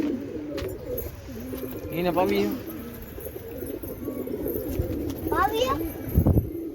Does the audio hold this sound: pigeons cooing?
yes